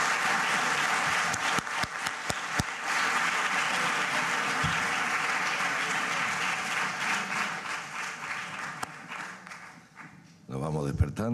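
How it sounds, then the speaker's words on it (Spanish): Audience applause fills a film press conference for a Donostia Award honoree, sustained and fairly loud with scattered sharper claps, tapering near the end as a voice begins speaking. "les pido, eso sí, un aplauso para nuestro"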